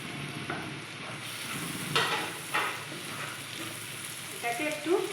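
Ground garlic, ginger and cumin pastes sizzle and fry steadily in a pan as they are stirred, a continuous close hiss with occasional louder spatters and scraping, no voices.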